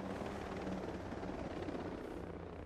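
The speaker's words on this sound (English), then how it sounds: "That's the same helicopter" Helicopter in the video game Ghost Recon Breakpoint, a steady, loud rotor drone that fills the whole clip without pause or voices.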